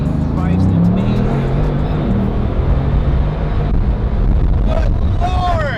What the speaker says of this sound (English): Well, you saw that car drives amazing